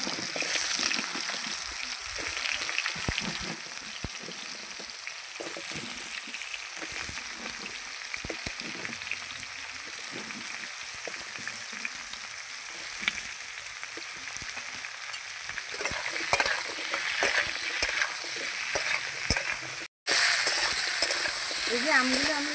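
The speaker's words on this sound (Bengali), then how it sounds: "এই যে আমগুলো আমি একটু নেড়ে নিচ্ছি" Raw mango pieces, without salt or turmeric, fry in a kadai for tangy-sweet pickle, a continuous hissing sizzle with scattered scraping stirs throughout.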